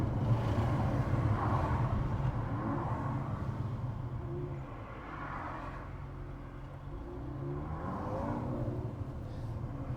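A Mercedes C43 with a resonator-delete exhaust drives along, its engine a steady deep rumble throughout, swelling at moments as it changes down through the gears, with no talking.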